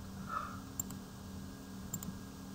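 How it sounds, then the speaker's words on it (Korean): Computer mouse clicks while working in 3ds Max 2016, a few sharp, light clicks spaced apart over a steady low hum, close and fairly faint. "클릭을 한 다음에 아무데나 그냥 클릭을 누르세요"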